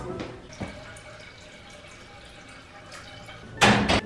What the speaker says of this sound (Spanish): Olla, vamos a llenarla de agua.